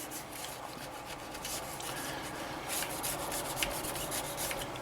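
A bristle brush scrubs the parts of a Marlin 336 lever action rifle during cleaning, giving a steady, close rasping and rubbing that swells slightly in the second half, with no voices.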